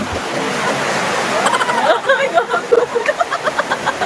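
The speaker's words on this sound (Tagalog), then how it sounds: "nagising nga ako kasi nga malakas nga yung buhos ng ulan" Heavy rain pours down steadily in a broadband wash, with faint voices murmuring underneath toward the end.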